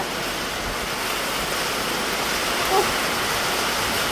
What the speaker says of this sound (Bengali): বলতে বলতে বৃষ্টি শুরু হয়ে গেছে